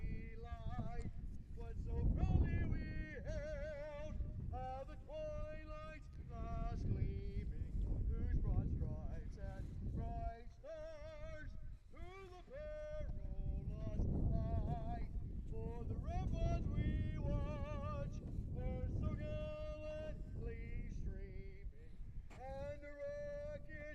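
Wind buffets the microphone at an outdoor high school softball field, a steady low rumble beneath a singer and crowd voices carrying across the field.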